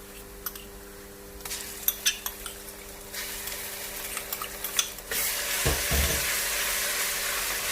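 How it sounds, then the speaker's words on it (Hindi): Oil sizzles steadily in a pan with cumin, with clinks of a spoon stirring; the frying grows louder and fuller partway through as ginger-garlic paste goes in. "थोड़ा सा भूनेंगे इसे।"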